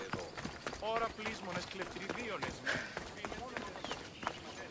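Horse hooves clip-clopping in Assassin's Creed Odyssey, a quick trotting rhythm under game sounds, with someone talking over it in German.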